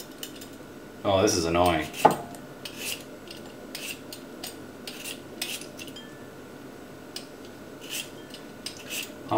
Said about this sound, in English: So peeling the potatoes is first